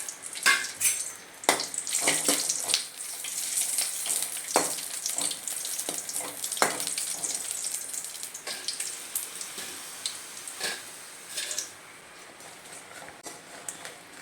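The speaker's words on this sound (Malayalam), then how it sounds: "ഇതാദ്യം വറുത്തെടുക്കാം എണ്ണയിൽ." Hot red chillies, ten spicy ones, fry in coconut oil with a steady bright sizzle and crackle, broken by a few sharp clinks of a spoon against the pan, easing slightly near the end.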